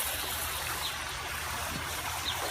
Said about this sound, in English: I'm going to start watering this guy